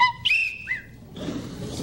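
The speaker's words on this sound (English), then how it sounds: "blow the whistle again" A trainer blows a falconry whistle to call a young bird back to the lure. A few short, high whistle blasts are close and fairly loud, followed by rustling handling noise.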